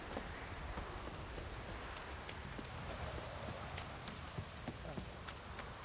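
Quiet, steady rain in The Witcher 3: Wild Hunt patters continuously, with scattered drops and a faint clip-clop of hooves moving underneath.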